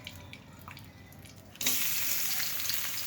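Onion, garlic and ginger dropped into hot mustard oil left from frying fish, bursting into a loud, steady sizzle after a quieter stretch of low kitchen noise.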